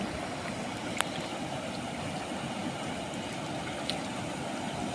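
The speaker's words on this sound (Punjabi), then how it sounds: "ਵੇਖੋ ਪਾਣੀ" Canal water flows in a steady, broad rushing wash with a constant outdoor roar, heard from the bank with no clear breaks and a couple of faint clicks.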